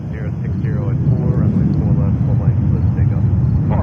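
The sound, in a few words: JetBlue airliner taking off at JFK airport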